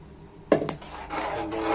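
A spoon scrapes and knocks against a pot while curry with ground coconut is stirred, two sharp clinks followed by softer scraping and a gentle bubbling hiss.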